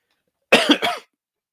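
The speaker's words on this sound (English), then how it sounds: "Expect a lot of coughs in this episode." A single short cough burst, close and fairly loud, with two or three quick pulses, then silence.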